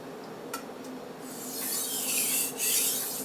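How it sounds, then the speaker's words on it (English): A chef's knife is drawn across a Japanese water stone, producing a soft gritty rubbing that swells into a broader, hissing scrape over a couple of strokes, close and fairly quiet. "I can hear that burr being removed on that first stroke, as well as the resistance as I'm pulling backwards."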